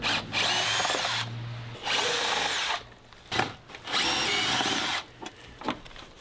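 Power tool whirring in bursts while removing screws from a ProMaster van's interior panels with a 5/16 socket: several sustained runs of a few seconds each, with brief pauses and clicks between them, close and fairly loud.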